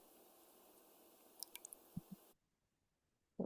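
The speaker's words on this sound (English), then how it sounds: "oh, dripping water" Water dripping, played back as part of an environmental sonification recording, heard as a few soft, close drips and squishy droplets over a hiss before a short silence and another burst.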